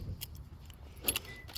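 Car keys and a key fob for a 2005 Toyota Camry jangle quietly in a few brief metallic clinks, close by and with no speech.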